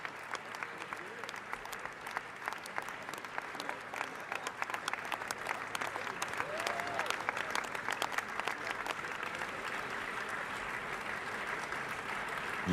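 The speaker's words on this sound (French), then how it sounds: "Ça applaudit toujours, hein." At a Cannes 2023 screening, an audience in a theatre keeps up long, continuous applause as Martin Scorsese, Leonardo DiCaprio and the cast enter, distinct claps crackling over a steady roar, with a commentator's voice faintly underneath.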